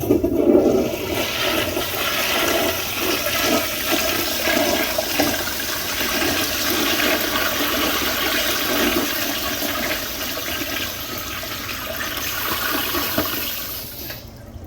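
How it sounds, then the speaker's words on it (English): A 1960s–1990s third-generation Crane Santon/Saneto toilet flushing up close, a strong steady rush and gurgle of water from jets and siphon that runs for about fourteen seconds before easing off. "We'll go ahead and get another flush and kind of a close-up."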